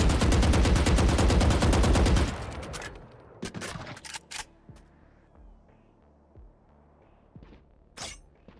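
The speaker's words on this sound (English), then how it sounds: "you want to test your recoil control and see how many shots you can hit out of 25" Rapid automatic gunfire in the Valorant practice range, a dense loud burst of evenly spaced shots lasting about two seconds, then a few scattered single shots and clicks over quiet game ambience.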